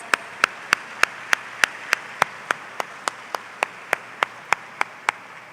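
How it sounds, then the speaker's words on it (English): For a women's choir at the YWCA Spring Breakfast, claps ring out in a steady, evenly spaced rhythm, sharp single beats in unison repeating about three times a second over a quiet room. "So can you give them another round of applause?"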